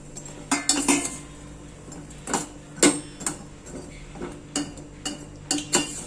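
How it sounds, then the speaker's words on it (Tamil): A spoon clinks against a pan as badusha sweets are dropped into sugar syrup, giving about a dozen sharp, close knocks at irregular intervals, with no one talking. "இப்போ இதை வந்து நம்ம ஜீராவில் போட்டுடலாம்."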